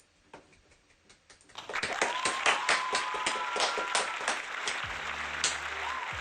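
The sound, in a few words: round of applause in a virtual pub quiz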